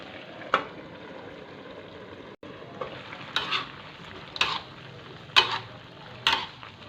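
Eggplant is added to an eel stir-fry in a pan. A soft sizzle sits under several sharp scraping and clacking stirs at irregular intervals, close by and without talk.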